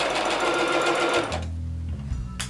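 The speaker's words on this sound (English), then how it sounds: "I'm going to stop and pivot back and continue the rest of the seam." A sewing machine stitches a seam on small doll clothing, running in a fast steady whir for just over a second before stopping, followed by quieter mechanical clicks and a brief knock, without talk.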